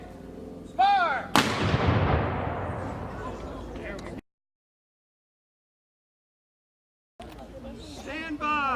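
A historical artillery cannon fires once during a living-history demonstration at Jamestown, a loud, close blast with a long rumbling decay, followed by silence and then shouted commands from the crew.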